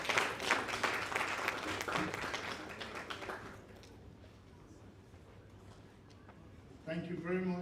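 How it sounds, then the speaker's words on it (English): Audience applause at the official launch ceremony of the Sierra Leone National Arms Commission in Freetown, a loud burst of clapping that fades into quieter room noise after a few seconds, with a voice starting up near the end. "A double applause, please, for Francis and Kieran"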